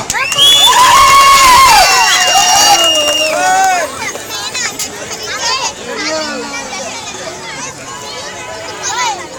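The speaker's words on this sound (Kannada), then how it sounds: "ಅವರೆಲ್ಲರೂ ಕೂಡ ಅದ್ದೂರಿಯಾಗಿ ನಾವು ಕೈ ಚಪ್ಪಾಳೆಯಿಂದ ಪ್ರೋತ್ಸಾಹಿಸೋಣ" A crowd at a stage dance event cheers loudly, with high excited shouts and children's yells peaking at the start and then settling into a lively, babbling hubbub.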